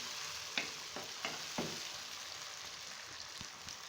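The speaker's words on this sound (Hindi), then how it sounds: "अब हम इसमें टमाटर डालेंगे। टमाटर डाल के एक दफ़ा अच्छी तरह से मिक्स करेंगे।" Tomatoes are stirred into onions frying for a Kashmiri dum aloo curry, giving a faint, soft sizzle with a few light spoon clicks early on that thin out; quiet and without speech.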